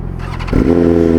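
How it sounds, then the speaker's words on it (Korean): A BMW M1000RR superbike fires up with a loud cold-start burst, then settles into a strong, steady engine roar that holds close and loud to the end. "시동 한번 걸어줘봐"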